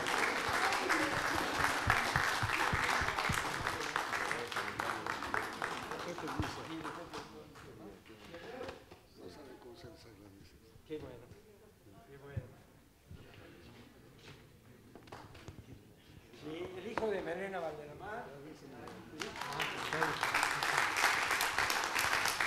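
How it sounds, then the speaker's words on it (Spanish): An audience applauds at a tribute event honoring songwriters, with loud sustained clapping at the start and again at the end, while a stretch of speech fills the middle. "les demos un aplauso"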